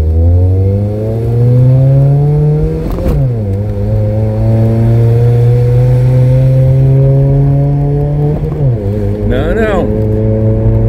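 Turbocharged car engine revving hard and accelerating on a street, its rising roar broken by gear shifts around the third and eighth seconds, loud and close throughout.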